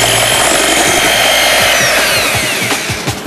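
Electric mixer whipping egg whites with sugar into stiff meringue, a loud continuous high whirring buzz with beaters rattling against the bowl, close and steady.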